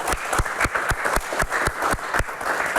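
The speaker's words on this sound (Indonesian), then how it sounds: "kita berikan tepuk tangan dulu." Studio audience applause on a political talk show, with sharp rhythmic clapping in roughly regular beats standing out over a lighter crowd patter. It is close and loud and carries on for a few seconds.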